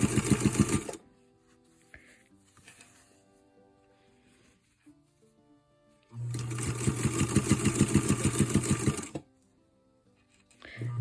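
A sewing machine stitches binding onto a quilt, with a short loud run at the start and a longer steady burst of close, rhythmic stitching later, separated by a quiet pause.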